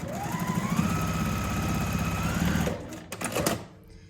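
A sewing machine stitches a quarter-inch seam in a steady, close mechanical whir that runs for about three seconds, then stops, followed by a few brief handling clicks.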